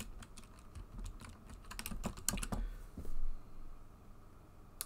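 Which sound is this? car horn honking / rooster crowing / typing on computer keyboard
typing on computer keyboard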